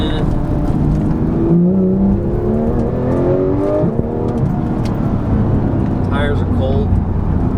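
A Porsche GT3 engine revving after a downshift on an on-ramp, its note rising and swelling in bursts from inside the car, with someone talking over the engine.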